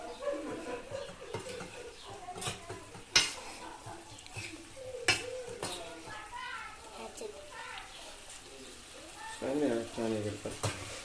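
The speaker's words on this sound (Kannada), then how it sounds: "ಇವಾಗ ಫ್ಲೇಮನ್ನು ಲೈಟಾಗಿಟ್ಟು ಚೆನ್ನಾಗಿ ಮಿಕ್ಸ್ ಮಾಡಿ." Chicken sukka with masala chili powder is stirred in a pan over a low flame: scraping spoon strokes and clinks against the pan over a soft sizzle, with a voice briefly heard.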